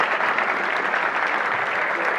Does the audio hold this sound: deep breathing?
no